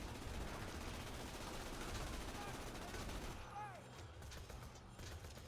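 Dense, loud gunfire rattles nonstop in Borderlands 2 as bullets are deflected, then thins out into scattered shots and whizzing ricochets near the end.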